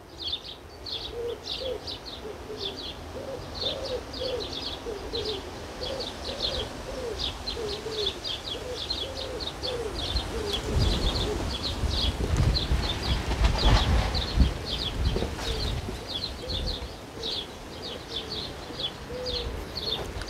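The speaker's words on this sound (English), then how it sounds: "I'll just stay silent for just a wee while and you can hear the birds." Garden birds in the rear garden of a house in Strathkinnes: repeated short chirps and cooing calls near and far, over quiet outdoor ambience that builds into a soft rumble toward the middle.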